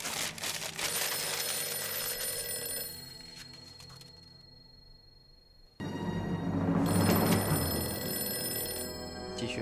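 A telephone bell rings in loud, continuous trilling bursts, pausing briefly into quieter background before ringing again, with no talking over it.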